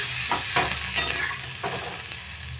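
Water goes into a hot pan of lightly fried ingredients for mango chutney, giving a steady close sizzle with a few sharp stirring scrapes and clinks and no talking.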